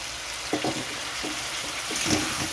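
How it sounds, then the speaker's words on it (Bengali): Hot water is poured into a sizzling katla fish curry with papaya and potato, bringing a loud steady hiss and bubbling with a few splashy stirring knocks, close and continuous. "ভালোভাবে কষানোর জন্য একটু গরম জল দিয়ে দিচ্ছি এখানে।"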